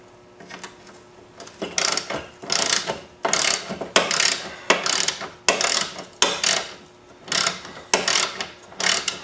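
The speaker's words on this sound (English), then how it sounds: "now that we've removed the first nut, we'll remove the second one" Ratchet wrench clicking as it loosens the wheel adjuster nut on a lawnmower, close and clear, in short repeated bursts of rapid clicks separated by brief pauses, with no voices.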